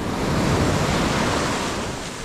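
Sea waves wash onto a sandy beach in Da Nang, Vietnam, a dense, continuous roar of surf mixed with wind buffeting the microphone.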